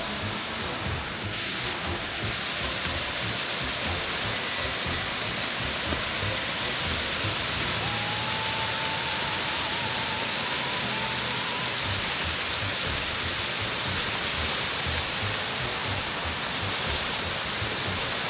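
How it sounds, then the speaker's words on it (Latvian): A fairly large waterfall in the Georgian mountains roars as a dense, unbroken rush of falling water, loud and close, steady throughout with no voices. "Piestājas pie ūdenskrituma."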